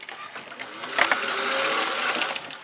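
A sewing machine runs close by as it sews a seam, giving a quick, continuous mechanical whir and rattle that picks up slightly partway through.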